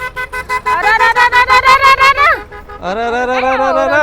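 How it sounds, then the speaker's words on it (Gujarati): In festival traffic, a vehicle horn honks in a rapid run of short repeated blasts, then a long, loud blare of several horns together follows, close by. "હોરન તો વાગવાના જ છે ને"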